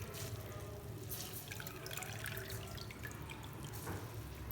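Squeezed potato slices go into cold water in a kitchen, giving soft continuous splashing and trickling with drips, close and moderate in level, with no voices.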